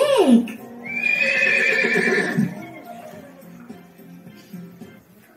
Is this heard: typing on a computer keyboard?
no